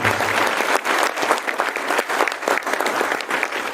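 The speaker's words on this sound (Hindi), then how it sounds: "एक बार जोरदार तालियां बजाइए" An audience at a Hindi-language business training session applauds a guest speaker with loud, dense, sustained clapping that fills the whole stretch.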